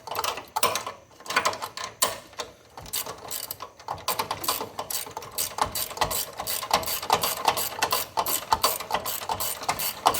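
Ratcheting wrench tightening the shock absorber on a tow vehicle, a rapid string of close mechanical clicks in uneven bursts that continues throughout, with no talking.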